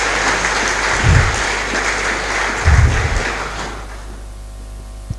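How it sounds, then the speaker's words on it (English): An audience at a college of engineering freshmen orientation breaks into loud, dense applause that holds steady, then thins and fades toward the end, with a couple of low thumps mid-way. "Can we give him another round of applause?"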